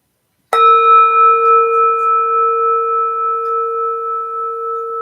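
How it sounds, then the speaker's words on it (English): A meditation bell is struck once to close a sitting, a clear resonant ding that rings on alone with a long, steady, slowly fading sustain and gentle pulsing beats. "I'll invite the bell to signal that our sit has completed."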